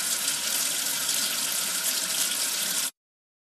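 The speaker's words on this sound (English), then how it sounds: "Wash away the soap with water." Cartoon sound effect of water rinsing soap away, a steady rushing tap-like stream that runs evenly for about three seconds before stopping abruptly.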